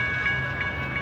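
A massive freight train rolls past in Flagstaff, Arizona, a steady, loud rumble with a continuous low drone and faint rhythmic clatter, with no voices over it.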